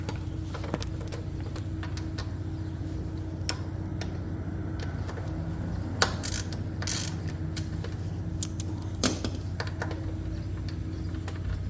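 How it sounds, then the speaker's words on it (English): A ratchet wrench works the cinch bolts loose on a Honda CBR 1000RR motorcycle wheel, giving bursts of close, rapid clicking with a few sharper clunks as the bolts break free over a low engine hum. "With the 12, you're gonna go back over here and you're gonna get these cinch bolts off as well"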